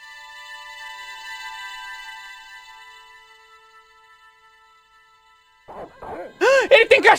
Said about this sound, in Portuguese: Ele tem cachorro mesmo!